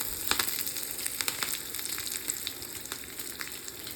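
Curry leaves hit hot oil in a pan and crackle in a dense, steady sizzle with scattered sharp pops, fairly faint and close, with no talking.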